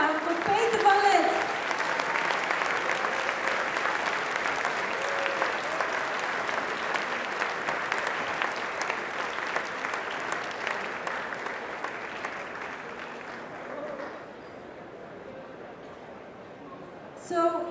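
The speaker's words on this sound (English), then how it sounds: "So give it up one more time for Peter van Lith." Sustained applause from a large audience at RoboCup 2024 fills the room, steady and loud for most of the stretch before thinning out near the end.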